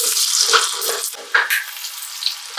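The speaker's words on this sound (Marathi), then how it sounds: "ओके, तर हे आपण तळून घेऊया।" Spring onion fritters (bhaji) fry in oil, a loud close bubbling sizzle with bursts of crackle as the batter hits the hot oil.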